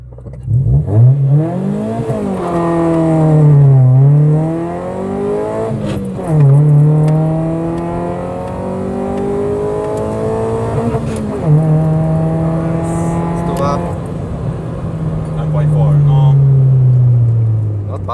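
A rotary-engine-swapped Lada 2106 accelerates hard on its first drive, its loud, buzzing engine note climbing in pitch through each gear, then dropping at every shift, over roughly four pulls heard from inside the car.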